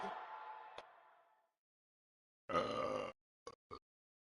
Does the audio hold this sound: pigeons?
no